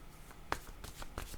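Cards being shuffled for a card reading, a brief soft riffle of light papery flicks with one sharper snap, quiet and close with no talking.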